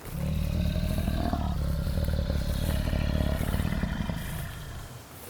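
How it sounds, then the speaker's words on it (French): A lion roaring in the distance on the savanna: a long, low, rumbling roar sustained for several seconds before fading out. "entendit le rugissement au loin"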